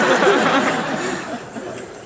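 A man imitates a very squeaky door opening with his voice, producing a drawn-out, creaking, wavering squeal that fades slightly toward the end.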